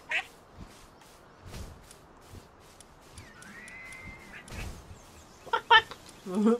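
A duck-like bird in Palworld quacks in a few short nasal calls near the end, mixed with soft game clicks and thumps, with no talking over it.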